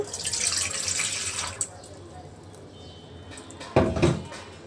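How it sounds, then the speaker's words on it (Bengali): Water is poured from a tap into a cooking pot for making rose pitha dough, a broad splashing rush for the first second and a half, then quieter handling with a brief louder clatter near the end. "তো পানিটা দিয়ে দিচ্ছি এর ভিতরে।"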